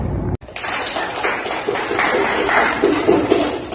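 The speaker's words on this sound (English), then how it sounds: "Let's give them a round of applause." A live audience applauds a group of panel speakers at a philosophy discussion, with dense, sustained clapping that builds slightly in intensity over a few seconds after a brief drop at the start.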